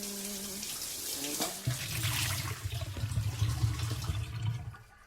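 Water rushes and gurgles from a toilet flushing in a bathroom, starting after a short, quieter lead-in and continuing as a steady, fairly loud churning before tapering off at the end.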